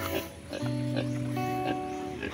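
A domestic pig in a pen grunts and oinks in several short, tonal bursts at close range, with no talking over it.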